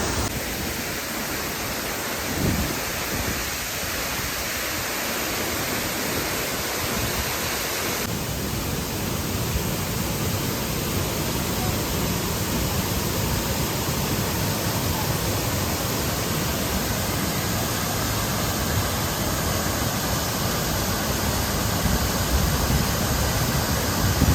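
Tiffany Falls in Hamilton, Canada roars as a steady, loud broadband rush of falling water, unbroken throughout and growing fuller after the first few seconds, with no voices over it.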